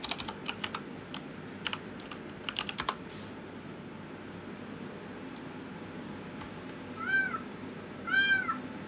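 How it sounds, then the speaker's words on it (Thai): Keyboard typing clicks in quick bursts, then two short cat meows play back as a sound clip near the end, fairly clear over a low room hum. "ลองเปิดเสียงแมวสิเดี๋ยวพี่มาเปิดเสียงแมวแป๊บนึงนะ"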